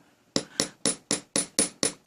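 Steady series of eight sharp, close taps from a hammer striking a metal chain link, each blow bright and quickly decaying, with no voices.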